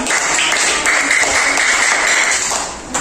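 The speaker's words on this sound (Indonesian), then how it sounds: "Tepuk tangan." A class of students applauds at the end of a lesson on the Dhuha prayer, a loud, steady burst of clapping over a faint constant hum, easing off just before the end.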